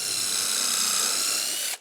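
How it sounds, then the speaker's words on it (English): A drill bores a pilot hole into a wooden coffee table leg, a steady, close, high-pitched whir with a ratcheting edge that runs without a break and cuts off sharply at the end. "So now we're just gonna put a little bit of a pre-drill here and then angle it,"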